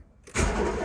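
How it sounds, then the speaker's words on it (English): A long-abandoned VW car's engine cranks over on the starter, a loud, dense grinding that bursts in after a short quiet lead-in and holds steady with no one talking. "Oh, the engine cranks."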